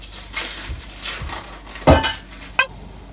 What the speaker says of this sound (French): Je vais mettre le pondu dans la casserole.